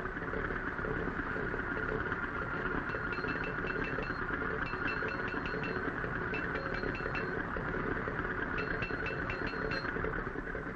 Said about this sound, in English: he briskly hammers their fins into shape before setting the fuses.